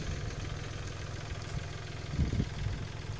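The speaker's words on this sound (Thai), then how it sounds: "เอามาดึงรถไถหน่อยขึ้นครับ" Small tractor engine idling with a steady low chugging rumble, fairly quiet and continuous, with a brief louder knock or rattle near the end.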